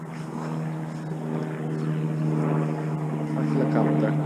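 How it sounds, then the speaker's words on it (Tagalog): Steady droning rotor and engine noise of a helicopter flying overhead above a rose garden, continuous and moderately loud with a faint voice underneath. "Helicopter."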